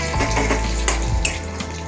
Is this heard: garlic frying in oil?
yes